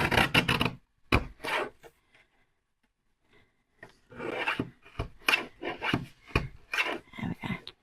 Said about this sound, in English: I'm just going to use a guillotine just to make these final cuts